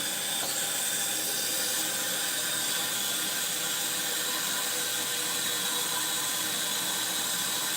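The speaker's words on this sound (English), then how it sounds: "I'm going to fill it with water." Tap water running steadily into a saucepan, a continuous broadband hiss and splash with no talk, heard close by while making a plant-based noodle dish from a box of Kraft mac and cheese.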